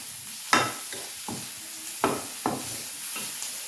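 Fennel seeds, mustard seeds and curry leaves being sautéed in a pan, with a few sharp scraping stir strokes over a soft, steady sizzle, close and moderately loud.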